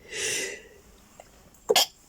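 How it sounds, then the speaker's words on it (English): A breathy intake is followed by a sharp, explosive sneeze burst, close up, with quiet around it. "Oh, I'm gonna sneeze."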